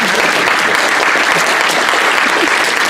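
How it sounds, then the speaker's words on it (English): Applause from a convention audience during a Libertarian Party keynote speech, dense and loud continuous clapping that holds at an even level throughout. "Please clap."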